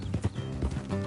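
Horses' hooves clip-clop in a quick, steady rhythm, close and prominent, during a ride in the video game Red Dead Redemption 2.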